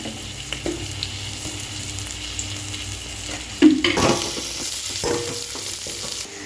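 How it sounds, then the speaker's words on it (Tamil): Oil is poured into a pan while preparing Tirunelveli-style sothi, with a steady frying sizzle and scattered stirring clatter, then a louder burst of hissing near the middle that stays up until a clank near the end. "இங்கே ஆயில் ஊற்றிக்கலாம்"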